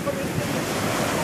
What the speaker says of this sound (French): Les vagues qui se font de plus en plus grosses aussi ici.